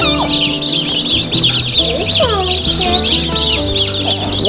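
Chickens cluck close by beside a newly hatched brood from an incubator, with a steady mix of low clucks and busy high chirps running throughout.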